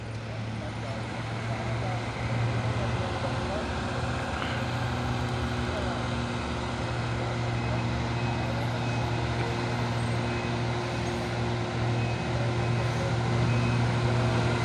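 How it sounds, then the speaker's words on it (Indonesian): Two Isuzu Giga dump trucks loaded with shells pass along a road, giving a steady, loud, droning engine rumble with a constant low hum that continues throughout. "ada 2 unit lagi dam truk Isuzu Giga muatan cangkang"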